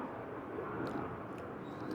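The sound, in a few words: airplane flying overhead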